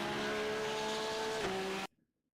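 Audi R8 GT3 race car lapping Oulton Park, a loud sustained engine drone with a brief pitch dip before it cuts out abruptly.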